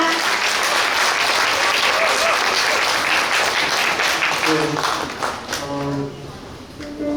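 At a memorial cultural event, an audience claps loudly and steadily to welcome a unification choir onto the stage. The applause thins toward the end as voices and a few brief tones come through.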